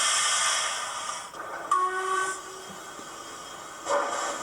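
A model Black 5 steam locomotive runs slowly with its sound unit on, giving a soft continuous steam hiss broken by a couple of short whistle-like tones, with no voices.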